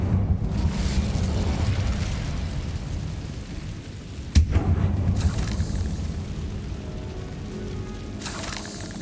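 A fiery Incendio spell cast in Hogwarts Legacy, a sharp burst of flame near the middle over a steady rumbling game ambience, with a second whooshing flare near the end.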